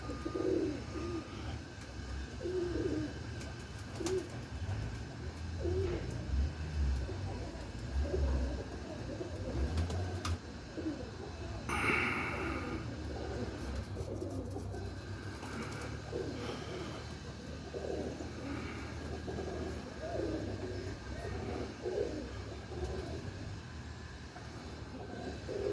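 Pigeons, Birmingham-type roller birds kept by a fancier, coo repeatedly outdoors on a morning, soft throaty calls overlapping through the whole stretch, with a brief sharper noise midway.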